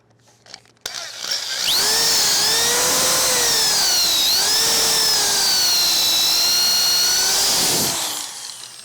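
A power drill spins up and bores a dowel pivot hole in wood through a drill guide. It whines loud and close for about seven seconds, its pitch wavering as it cuts, then winds down.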